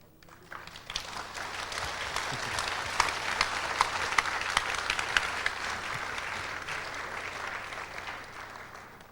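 A church congregation applauds after a closing prayer, with dense, sustained clapping from many hands that swells, holds steady for several seconds and then slowly thins out, heard fairly close and with no voices over it.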